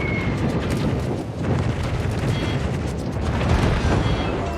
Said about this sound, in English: We've sunk an enemy aircraft carrier.